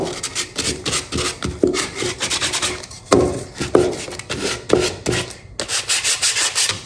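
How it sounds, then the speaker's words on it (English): Rhythmic scratchy strokes of 220-grit sandpaper rubbing along wood edges, close and fairly loud, repeating in quick back-and-forth bursts with brief pauses. "let's just use some 220 sandpaper, and we're just gonna come all around the edges"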